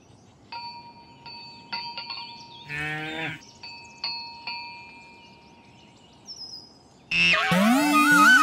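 A cartoon cow lets out a short, bright moo in a Marathi kids' cartoon, set among sparse chiming tones and dings, before a burst of busy music and effects closes the scene.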